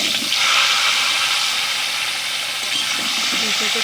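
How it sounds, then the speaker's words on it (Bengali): Potatoes, papaya and other vegetables fry in hot oil in a pan for a Bengali vegetarian panchan, a loud, dense, continuous hiss held steady throughout, with someone talking over it. "আলুগুলো আমি দু মিনিট মতো ভেজে নিয়েছি এবার আমি বাকি সবজিগুলো সব দিয়ে দেবো"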